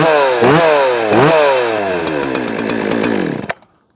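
Poulan Pro 330 60cc chainsaw fitted with a Husqvarna chain cutting wood, a loud close snarl that revs up twice, then bogs and drops in pitch under load before cutting off abruptly near the end.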